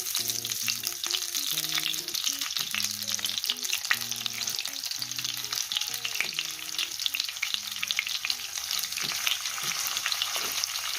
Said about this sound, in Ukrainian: На добре розігріту пательню викладаємо печінку.